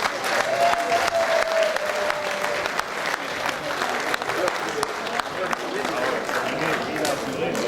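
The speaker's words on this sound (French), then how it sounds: "les invités pourront également vous accompagner sur des applaudissements" Wedding guests at a dinner and dance party applaud the arriving couple, with lively sustained clapping filling the room while voices talk over it.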